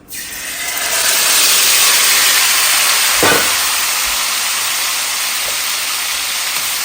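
Liver dropped into hot oil bursts into a loud sizzle that swells within the first second, then holds as a steady, close frying hiss with a brief thump partway through.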